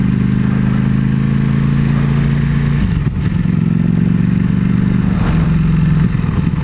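A Ducati Panigale V4 S ridden on the Pirelli circuit, its engine droning loud and close at steady revs with a strong low hum, a brief dip and gear change around the middle, then pulling on again without talk.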